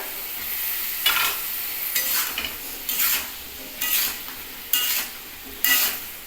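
Pumpkin and potato frying in a pan, a soft steady sizzle broken by about six sharp stirring scrapes at regular intervals, close by and without talk.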